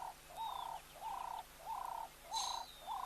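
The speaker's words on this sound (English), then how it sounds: "Those are ringneck doves." Ring-necked doves at an African waterhole coo in a steady repeating rhythm, about five soft rolling calls close together, with a faint higher chirp or whistle from another bird in the background.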